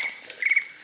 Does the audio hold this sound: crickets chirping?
yes